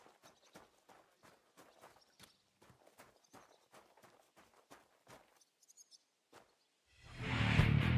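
Horse hooves clip-clop at a steady walking pace in the medieval game Kingdom Come: Deliverance II, moderately loud and alone, and a louder wash of rushing noise takes over in the final second.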